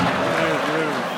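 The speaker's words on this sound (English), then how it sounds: "Listen to that crowd." A live roast audience in DC cheering and screaming, a loud, dense wash of crowd noise with raised voices that holds steady through a brief burst.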